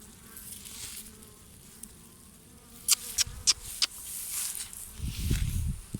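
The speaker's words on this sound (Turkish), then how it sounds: "Bu sarı çiçeğe giden her arımız bakın kovan altlarına atıyor kendini." Honey bees buzz around the base of a hive in an apiary where pesticide spraying has poisoned the colony, a steady low insect hum broken by a few brief sharp clicks and a louder closer burst near the end.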